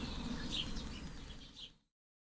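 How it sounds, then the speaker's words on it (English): Bird sound effects in a puzzle video game: faint, high chirps and tweets over a soft steady hiss, cutting off abruptly near the end. "Can you hear the birds?"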